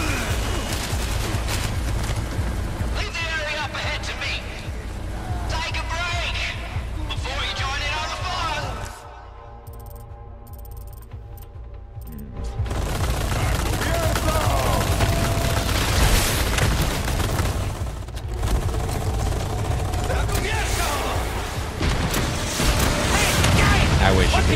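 Automatic weapon fire and rocket launcher blasts in Resident Evil 4 Remake, loud sustained shooting and booms with a short quieter lull midway, a voice talking throughout.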